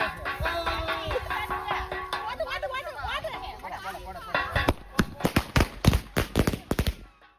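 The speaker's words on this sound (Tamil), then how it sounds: "மாட்டை இப்படி ஓட விடும்போது பட்டாசு வெடி எல்லாமே அடிப்பாங்க." Firecrackers burst during a Maattu Pongal bull run in a Tamil village, a rapid string of sharp, loud cracks following a stretch of crowd voices and chatter.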